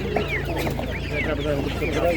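Poultry at a village market, ducks, geese and turkeys, clucking and calling in a steady dense chorus nearby, with people talking over the birds throughout.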